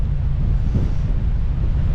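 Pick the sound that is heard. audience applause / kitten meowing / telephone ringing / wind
wind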